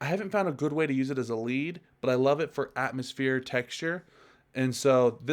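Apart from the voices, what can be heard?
No everyday noises stand out.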